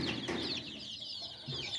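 Domestic hens and chicks give a steady stream of high peeping and soft clucking, close and continuous through the whole stretch, with no talking.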